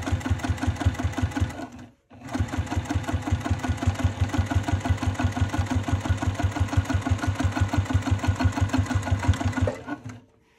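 A sewing machine top stitches a clutch wallet with a fast, even rhythmic chatter of stitches. It stops briefly near the start, resumes for a long steady run, then halts at the end.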